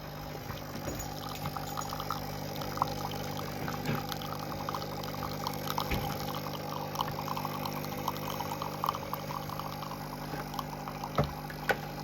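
A Nespresso machine hums steadily as coffee streams out, a continuous liquid pour over a droning pump, close and even for the whole stretch with no talking.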